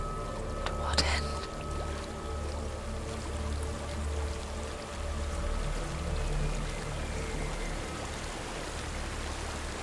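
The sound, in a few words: waterfall in video game Hellblade: Senua's Sacrifice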